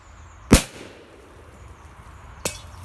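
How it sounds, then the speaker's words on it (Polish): A sharp Black Thunder PXP205 firecracker bang cracks out nearby under a metal pot with a metallic ring, followed a couple of seconds later by a second, fainter pop. "Petardka Black Thunder kontra garnek."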